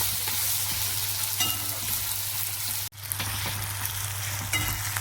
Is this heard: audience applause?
no